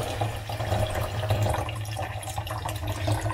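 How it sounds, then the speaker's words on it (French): Cold tap water runs in a steady stream into a large tub, a close, continuous gushing and splashing that holds even throughout, with no talking. "donc je vais mettre de l'eau froide"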